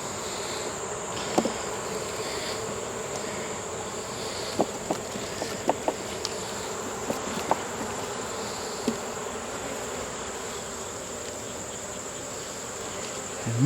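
A honeybee swarm clustered under a screened bottom board of a hive gives a steady, low insect hum throughout, with a few brief clicks and knocks scattered over the drone.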